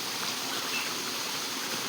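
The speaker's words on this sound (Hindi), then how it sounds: "यहाँ ज़मीन पर हर जगह से पानी निकल रहा है" Water flowing steadily out of waterlogged, soggy forest ground, bubbling up from the soil, giving a continuous, close rushing hiss like a small stream with no pauses.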